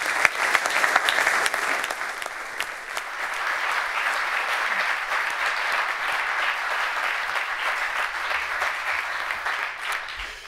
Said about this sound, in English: please clap your hands for the Prime Minister of Belgium, Alexander De Croo.